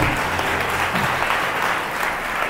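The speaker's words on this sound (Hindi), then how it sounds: "एक बार यीशु की महिमा करें जोर से ताली बजा के" A church congregation claps loudly in praise of Jesus, steady dense applause filling the room throughout with no voices standing out.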